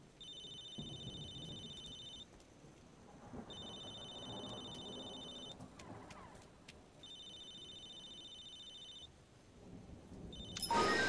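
A telephone in Halo 3 ODST rings in repeated bursts, a bright electronic trill about two seconds long with pauses between, over a low game rumble like rain and thunder.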